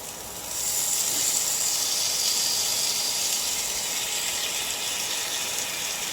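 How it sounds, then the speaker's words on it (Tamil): Prawns go into a pan of prawn gravy and set off a strong, steady sizzling hiss that swells within the first second and holds evenly close by, with no talking. "இப்போ வந்து எறாவை போட்டுக்கலாம்."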